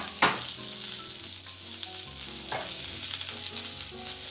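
A tuna steak searing in a well-oiled hot pan, a loud, steady, close sizzle with a couple of sharper hisses as it settles, no voices over it.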